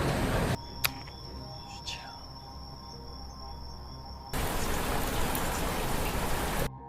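Steady rain falls outdoors while a man cooks outside, a dense hiss that drops away for a few seconds, leaving faint insect chirps and a couple of knocks, then returns at full strength.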